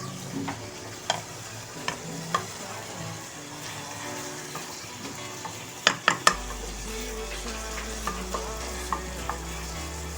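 Potatoes tipped into fried mogre and stirred in a pan, a continuous light sizzle with scattered spoon clinks and a cluster of sharper knocks midway, followed by a low hum.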